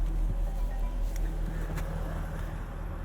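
A 2023 Jaguar F-Type R Coupe cruises on a relaxed drive. A steady, low engine drone and road rumble fill the cabin without a break.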